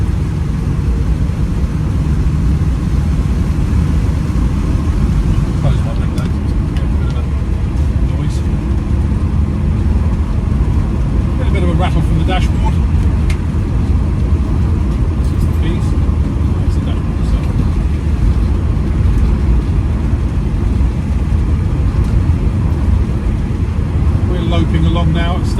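1969 Rover P5B coupe cruising at a steady 3,500 RPM, just over 60 mph, a loud constant engine drone and road rumble heard from inside the car, with occasional light clicks and someone talking over it.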